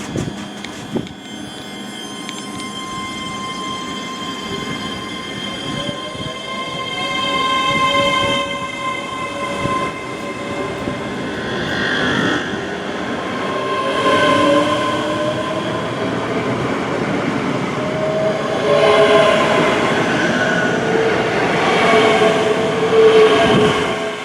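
A train unit rolls slowly into North Berwick Station on Scotland's East Coast line, a steady rumble with whining, shifting tonal notes that swell as it draws closer, heard alone without talk.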